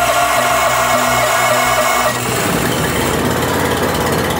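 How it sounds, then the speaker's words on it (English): A BCS snow thrower engine, electric-started and running on choke, fills the whole clip with a loud, steady, close-up engine drone. The roar shifts to a rougher, lower idle about halfway through. "I'm gonna leave the choke for a few seconds so that the engine warms up"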